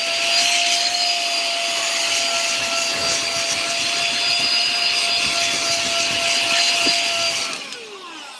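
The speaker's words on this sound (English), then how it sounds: "hold your ears because I got a vacuum" Vacuum cleaner running loud and close, a steady unbroken whine with a sharp tonal pitch that holds for several seconds, then drops away and winds down near the end.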